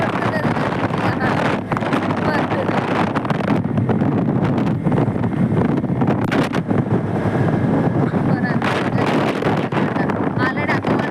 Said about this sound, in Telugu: చల్ల గాలి కూడా కొడుతున్నది మంచిగా